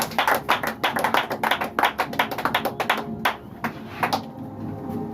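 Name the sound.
congregation clapping hands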